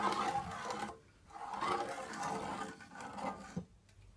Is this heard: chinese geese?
no